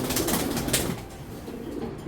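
A short burst of wing flapping and rustling as a racing pigeon of a Belgian, Dutch or German bloodline is held and handled, close up, then fading into a quiet rustle.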